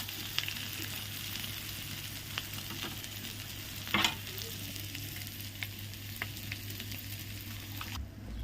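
Egg frying in a pan during Ramadan iftar cooking, a steady soft sizzle and crackle running throughout with occasional small pops, including one sharper burst partway through, heard alone without voices.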